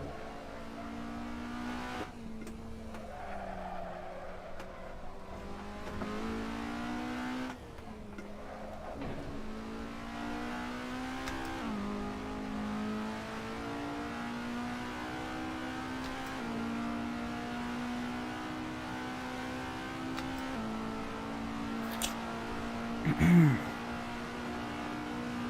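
Race car engines in the Assetto Corsa racing game drone and rev continuously, rising and falling through gear changes, with a brief sharp burst near the end.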